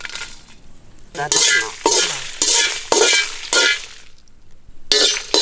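Fennel seeds, cumin, black pepper and dried chillies dry roasting in a pan, with loud bursts of rattling and scraping as the spices are stirred, separated by short quieter gaps.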